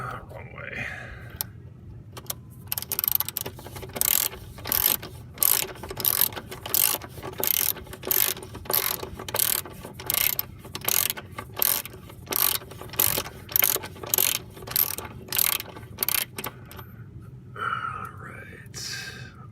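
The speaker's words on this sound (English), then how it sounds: "Give myself a ratchet." Rapid ratchet clicking in repeated bursts while working on the ball joint and control arm of a 2004 Honda Accord, close and fairly loud, with faint breathing or whispering at the start and end.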